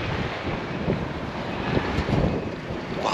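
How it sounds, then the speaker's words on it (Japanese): Strong wind buffeting the microphone in a steady, loud roar with gusty swells, no voices. "めっちゃ風が強い。"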